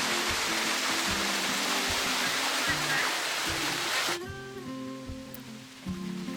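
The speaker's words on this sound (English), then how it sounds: "just enjoy the view and the sounds of nature as the river" A river flows through scenic countryside with creeks and streams nearby, giving a loud, steady broadband rush of water that drops off abruptly partway through, leaving quieter water with a low tonal hum and intermittent background sounds.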